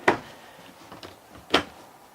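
Kitchen cabinet doors and drawers in a 2010 Newmar Bay Star 2901 Class A motorhome open and shut, giving two sharp, loud knocks and a few softer taps and slides between them, with no talk.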